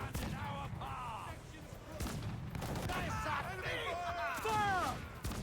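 Ship cannon fire in Assassin's Creed IV Black Flag, a naval battle with repeated booming volleys under shouted crew voices and game music, fairly loud and dense throughout.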